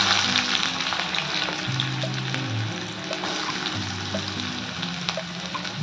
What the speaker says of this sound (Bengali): পেঁয়াজ কিন্তু এবার ভেজে নেব।